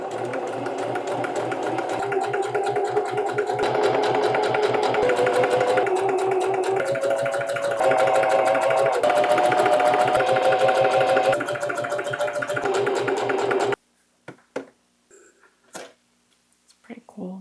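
A sewing machine stitching with brown thread runs steadily at close range for about fourteen seconds, a rapid even mechanical whir with shifting pitch, then stops, leaving a few faint clicks.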